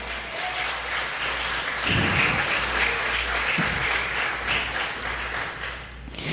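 Applause from a church congregation, a steady wash of many hands clapping that fills the whole clip, with a few louder nearby claps standing out.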